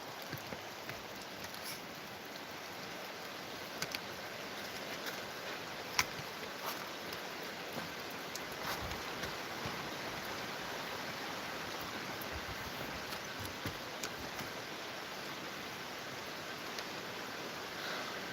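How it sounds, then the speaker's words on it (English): A river swollen with precipitation rushes below a deck, a faint, even wash of water noise holding steady throughout, with a few small ticks and taps scattered over it. "There's a river running down there"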